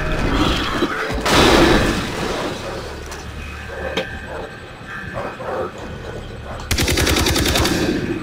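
Assault rifle gunfire in Far Cry 3, loud rapid automatic bursts at the start and end with quieter game ambience between.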